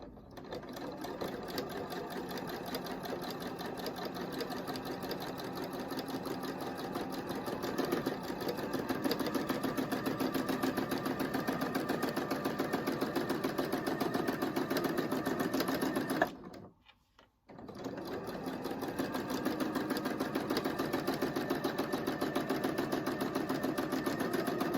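A sewing machine stitches a quilt, running loud and steady close by with a continuous mechanical whir and rapid needle clatter, cutting out briefly for a second before starting up again.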